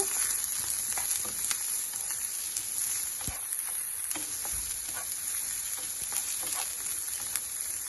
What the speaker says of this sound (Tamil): லைட்டாக எண்ணெயில் கலந்து விட்டுக்கலாங்க.